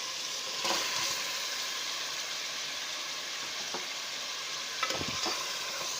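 Chicken fries in a pan with onion and ginger garlic paste for nihari, giving a steady close sizzle with a few brief stirring scrapes.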